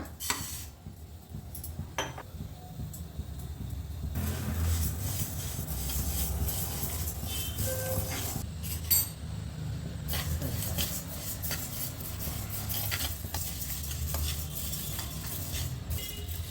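Washed, soaked rice being dry-roasted in a pan for khara pongal, with a steady sizzle and the scrape and clink of a spoon stirring it continuously throughout, close and fairly loud, no talking.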